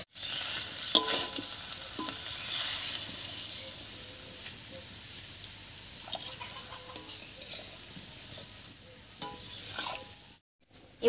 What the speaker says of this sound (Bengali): আলুর সঙ্গে মশলা খুব ভালো করে কষে গেছে। এবার গরম জলটা দেব।